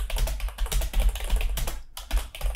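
Rapid, steady touch typing on a computer keyboard in a terminal typing tutor, with dense clicky keystrokes close by and a brief pause near the end.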